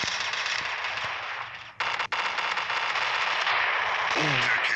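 Rapid gunfire from a Special Ops mobile shooter game, a dense continuous burst of shots with a brief gap partway through and a short electronic tone near the end.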